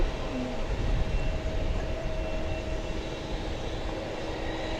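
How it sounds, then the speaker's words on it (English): Jet airliners departing at DFW Airport, including a UPS Boeing 757, make a steady, loud engine roar and rumble with a faint whine held through the whole stretch, without speech. "we've got two planes going out."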